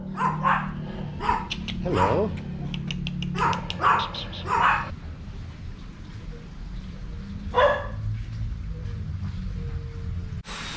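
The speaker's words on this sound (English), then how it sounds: "Good job, the dogs are chained up." Several chained dogs in Denpasar, Bali bark in a burst of loud, close, repeated woofs, then fall quiet before one more bark near the end; a person briefly speaks.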